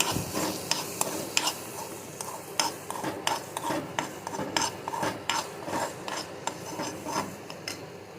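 Brain fry is stirred in a pan after adding garam masala, with quick, rhythmic scraping and clinking strokes over a soft, steady sizzle throughout.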